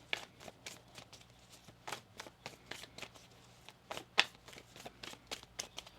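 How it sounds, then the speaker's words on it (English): Deck of tarot cards being shuffled by hand, quiet crisp riffles and soft slaps in an irregular series, close and alone. "One more shuffle here."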